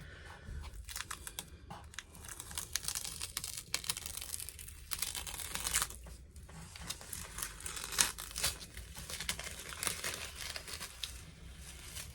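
Cheap masking tape peeling off watercolour paper and tearing away a chunk of the sheet, heard as close, crackly crinkling and ripping that runs in uneven bursts throughout.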